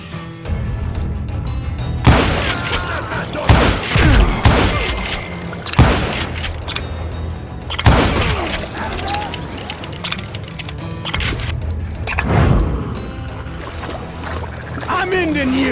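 Rapid volleys of gunfire in Call of Juarez: Gunslinger, with sharp repeated bursts and heavy booms at irregular intervals over a dense background of game noise; speech is also present.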